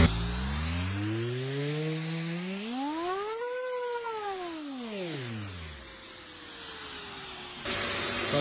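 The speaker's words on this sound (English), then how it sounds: "I'm gonna sand back the guide coat that I put on there" A steady whirring of an electric sander with the hiss of dust extraction running as a car bumper is sanded, its motor pitch rising and falling, no one speaking.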